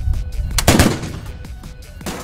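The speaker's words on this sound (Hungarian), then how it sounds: "ilyen nagy volumenű gépágyukkal lőni azért nem kis dolog" Large-calibre military autocannon firing during a live-fire shooting exercise, a rapid burst of loud, sharp booming shots close by, each followed by a short echoing tail.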